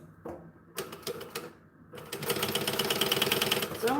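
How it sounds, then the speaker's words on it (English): A sewing machine stitches foam onto a bag, first in short stop-start bursts of rapid needle chatter, then a longer steady run of fast mechanical clatter, close and clear. "I'm going to sew at 1/8 of an inch and attach the foam"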